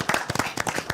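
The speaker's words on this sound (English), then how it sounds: "I think a round of applause is in order here." Close, brisk clapping from an audience at an MTN Pulse Just Be Series event, a quick flurry of sharp individual claps over about a second.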